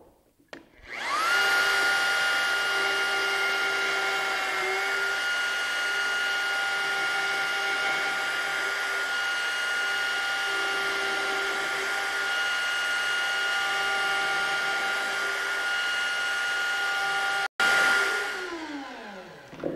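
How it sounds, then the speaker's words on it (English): A plunge router driven into wood through a mortising jig gives a loud, steady, high whine. It runs almost unchanged for about fifteen seconds, then breaks off briefly and winds down as the motor stops. "Now I'll start out by plunging the router in and making a series of plunging cuts"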